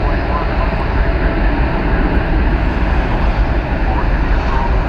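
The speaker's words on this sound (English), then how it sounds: "We have another plane coming in from Houston George Bush. This is United Flight 1849, the" United Airlines Boeing 737-700 arriving at DFW Airport from Houston, a loud continuous jet engine roar with heavy low rumble, steady and close for the whole span.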